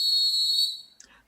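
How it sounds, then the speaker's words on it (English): A sharp, high sports-show whistle blast used as a sound drop, one steady shrill tone held for about two thirds of a second, then cut off, followed by a faint trailing chirp. "So, Dooch, will you cue the blow the whistle drop?"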